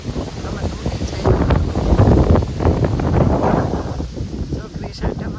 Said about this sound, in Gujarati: પવન બહુ જ છે.